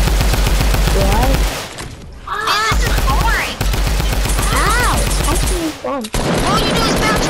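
A drum gun firing in Fortnite, long loud bursts of rapid automatic fire broken by brief pauses, with voices talking over the shooting in between.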